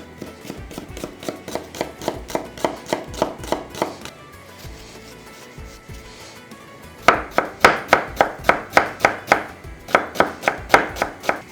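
A knife chops an onion finely on a cutting board for mushroom soup, with steady rapid strikes close up, a brief pause in the middle, then a louder run of regular chops.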